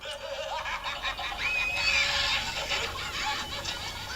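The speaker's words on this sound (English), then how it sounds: "There's the chicken." A chicken clucks in short bursts from a film soundtrack, mid-level and slightly muffled over room noise.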